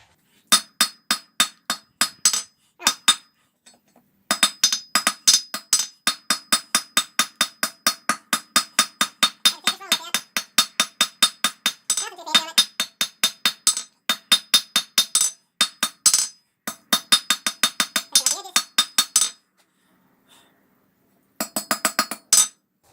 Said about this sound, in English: This is a nice, quick, easy forging.